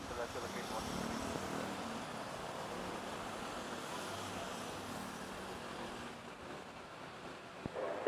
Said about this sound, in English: Nice smooth landing over there.